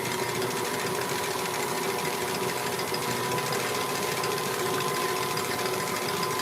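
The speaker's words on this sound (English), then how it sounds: "Gonna get it on number 2, speed 2, and then whisk, whisk, whisk." A stand mixer whisking macaron batter at speed 2, a steady mechanical whir with a rapid rattling drone, close and continuous without talk.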